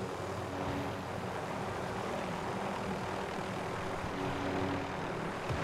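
Helicopter flying in the Warzone battle royale video game: a continuous engine and rotor drone at moderate level, steady throughout with broad rushing noise and no talk.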